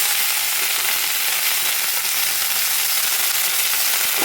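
Spring onions and flat beans sizzle in hot oil in a wok while a dried-fish chorchori is being cooked, a close, steady, continuous frying hiss with no pauses and no voices.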